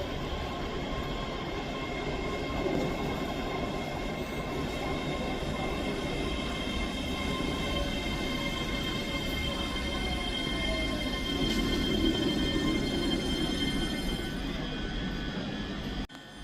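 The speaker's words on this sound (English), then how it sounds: "Arriving in now is the 12:36 Scotrail service from Edinburgh Waverley to Dunblane." A Scotrail passenger train pulls into Edinburgh Haymarket station, its steady rolling rumble and engine drone sustained throughout, with faint high wheel squeals and tonal hums swelling slightly near the end before cutting off.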